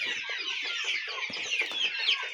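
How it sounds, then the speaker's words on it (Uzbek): Two-month-old chickens on a poultry farm in Yakkabog district, Qashqadaryo, cluck and chirp together as a dense, busy chorus of overlapping calls. "Mana jo'jalarimiz."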